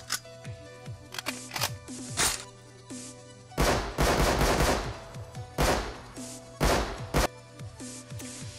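Rapid automatic gunfire from an MP5 submachine gun in the survival game Rust, loud bursts of sharp shots repeating in several clusters with short pauses between, no talking.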